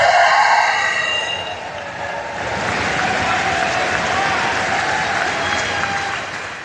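Audience applause at a senator's town hall meeting in Newport, a sustained, dense wash of clapping from a large crowd that holds steady for several seconds after a brief voice at the start.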